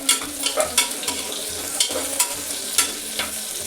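Onions, green chillies, curry leaves and fenugreek sprouts get stirred through masala in a hot pan, with a close, steady sizzle and soft repeated scrapes of the spoon, no voices.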